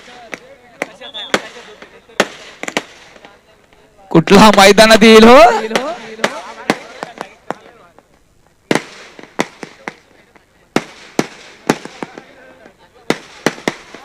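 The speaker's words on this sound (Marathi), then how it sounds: "फटाक्यांच्या आतषबाजीमध्ये सन्मान केला जातोय" Fireworks bursting as a salute at the final of a village sports tournament, heard as a dense crackling volley of about a second after scattered sharp pops, with more loud isolated bangs following and a commentator talking throughout.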